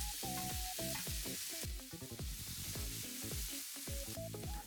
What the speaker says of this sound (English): I'm going to stir fry it.